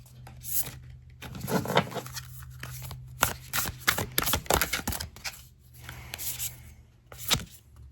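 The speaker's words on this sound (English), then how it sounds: "I'm just gonna shuffle." Repeated riffling and slapping of tarot cards being shuffled up close, in irregular bursts with short pauses between.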